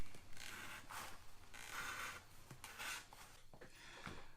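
A knife slices through leather hide while cutting out the belly of a stockman's whip, giving faint, close, repeated rasping and creaking drags in uneven strokes with no talk.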